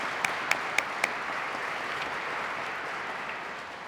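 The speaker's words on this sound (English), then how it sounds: "I'll give them a round of applause." A room full of people claps steadily in sustained applause at a police constable badge ceremony, with a few sharp, distinct claps standing out at the start.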